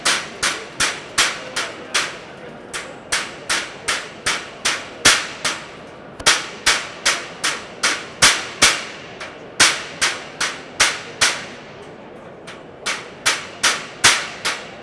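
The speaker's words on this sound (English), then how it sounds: "going to take the knife and the claw hammer" A claw hammer and knife strike a B3 security fence of horizontal wires in a rapid, steady series of sharp metallic clangs and bangs, loud and close, with short gaps between bursts.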